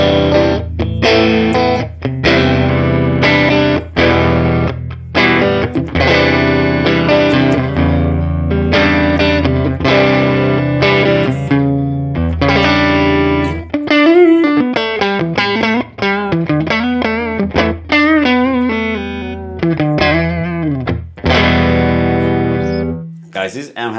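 Electric guitar played through a Woodrow amp plugin set to edge-of-breakup drive, with lightly gritty chords and sustained notes that give way to a busier run of single-note melodic lines, steady and upfront for the whole stretch without any talking.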